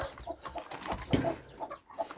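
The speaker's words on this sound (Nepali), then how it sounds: "अब कुखुराहरू निकालौँ" Hens clucking in short, scattered bursts close by, a busy, uneven chatter of poultry.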